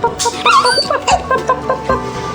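A dog whimpering and yipping in a veterinary setting, a series of high, wavering whines and short cries in quick, uneven bursts, close and fairly loud.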